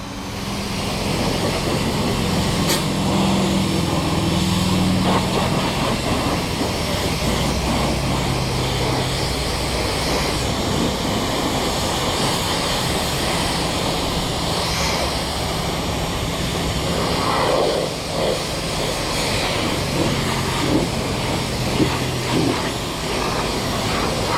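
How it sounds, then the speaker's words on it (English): A pressure washer sprays down a 2006 Mazda Miata, giving a loud, steady hiss of water over a continuous motor drone that barely changes from start to finish. "So let's get going on the pressure washing."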